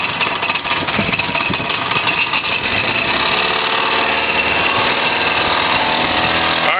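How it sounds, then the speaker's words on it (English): Outboard engine on an 18-foot pontoon boat idling, a loud steady mechanical chug and rattle that holds evenly throughout, close and alone with no talk. "We're going to start it up right now in idle."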